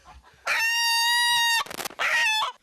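Chickens squawk loudly in a cramped coop as they are caught, one long harsh drawn-out cry followed by a short burst of flapping and a second shorter squawk, close and alone.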